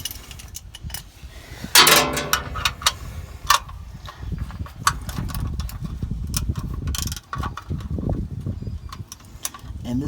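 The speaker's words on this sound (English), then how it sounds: "I'm going to take my 14mm ratchet and I'm going to snug it up" A 14mm ratchet snugs the oil drain plug on a 2003 Toyota 4Runner, giving close, irregular clicks and metallic clinks, with a loud clatter near the start and a voice talking in places.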